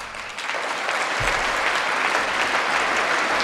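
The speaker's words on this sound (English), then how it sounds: "And then the people from both sides applauded it." An audience breaks into sustained applause after a political speech, dense clapping that swells quickly and holds loud and even throughout.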